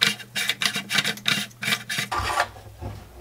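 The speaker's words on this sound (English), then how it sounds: "you can start unscrewing your buffer tube" A buffer tube being unscrewed from a Romanian 9mm AK pistol makes rhythmic metallic rasping and grinding as it turns, a run of repeated short scrapes followed by a longer rub and a soft knock, close up with no talking.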